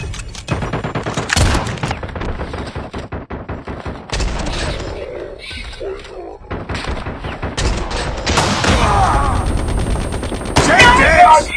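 Gunfire in a bolt-action sniper rifle video game, with repeated sharp shots and bursts scattered through a busy mix, along with game voices and other effects.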